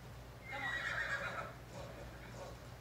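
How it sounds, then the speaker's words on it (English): A horse in the video game Assassin's Creed Odyssey lets out a single faint neigh lasting about a second, followed by soft hoof clip-clops while the horse is ridden. "Sorry, I'm just like driving my horse around."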